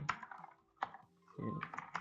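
Someone types a shell command on a computer keyboard, a quick run of soft clicking keystrokes that comes in bursts and stays close and fairly quiet.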